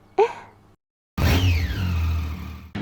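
A Triumph Rocket 3 GT motorcycle with a 2500cc engine is blipped briefly, then after a pause revs up into a smooth, rising then falling engine note, close and fairly mild rather than harsh.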